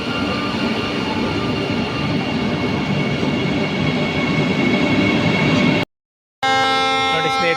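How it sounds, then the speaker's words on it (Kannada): Vande Bharat express pulling out of Yeshwantpur Junction platform two toward Kacheguda, a loud steady rolling rumble of the train close by, then a brief cut and a bright tonal horn-like sound at the end. "ಯಶವಂತಪುರದಿಂದ ಕಾಚಿಗೂಡಗೆ ಒಂದೇ ಭಾರತ್ ಹೋಗ್ತಾ ಇದೆ"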